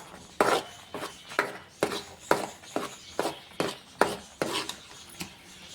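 Peanut powder, coconut powder and milk powder laddu mix being stirred in a pan, a steady series of about a dozen dry scraping rasps, evenly paced roughly twice a second, close and clear with no talk.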